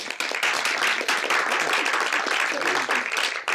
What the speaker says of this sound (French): je crois qu'on peut applaudir Sylvia pour son courage et son éthique